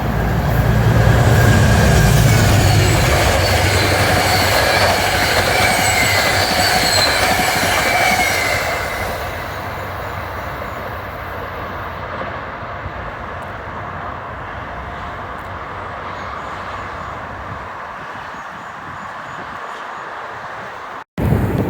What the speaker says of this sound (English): Here comes the Danbury diesel.